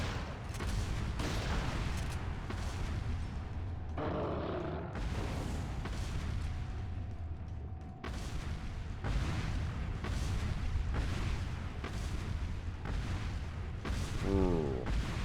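Shotgun fire in the Resident Evil video game comes as dense, continuous booming blasts layered with heavy game noise, loud and nearly unbroken throughout.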